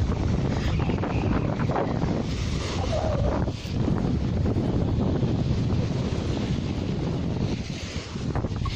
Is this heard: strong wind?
yes